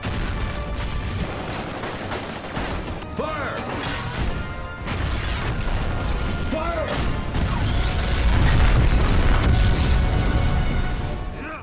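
Missiles are fired at soldiers in an Expendables action movie scene, with dense booming explosions, crashes and bursts of gunfire layered over each other, loud and continuous, building to a heavier rumble in the second half.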